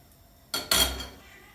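A spatula flips a tapioca pancake in a pan, making two quick scraping clatters close by, the second louder and trailing off into a soft sizzle.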